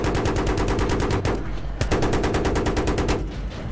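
Machine gun fire in the Battlefield 3 video game during a co-op helicopter mission: loud, rapid bursts of evenly spaced shots, briefly broken twice by short pauses, with no voices over them.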